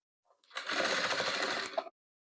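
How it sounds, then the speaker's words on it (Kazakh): A sewing machine joins rows of patchwork quilt pieces in one quick, close burst of rapid stitching lasting just over a second, alone in a quiet room. "Енді осыларды тігіп аламыз."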